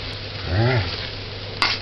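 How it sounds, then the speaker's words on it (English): Plantains frying on high heat in a pan give off a steady, moderately loud sizzling hiss, with a brief squeaky tone partway through and a short clink near the end. "Why I fry this on high?"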